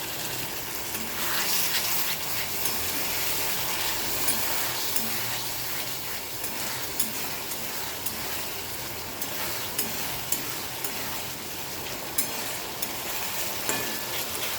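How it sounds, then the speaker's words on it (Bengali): Meat for a potato-and-meat curry is sautéed in a pan after a splash of water, making a constant moderate sizzle with scattered small pops and clicks from stirring. "হালকা করে জল দিয়ে দেবো, দিয়ে এবার কষবো ভালো করে"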